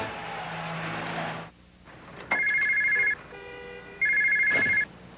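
A telephone rings in two clear electronic bursts, each under a second long, after a stretch of broadcast crowd noise from a 2001 Steelers at Buccaneers NFL game fades out.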